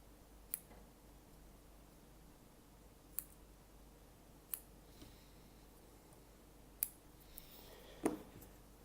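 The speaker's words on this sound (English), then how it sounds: "Grab your scissors and cut the fuzziness." Scissors snipping wicking cotton for a vape RDA, five or six sharp isolated clicks spaced a second or two apart, close and crisp over a quiet room.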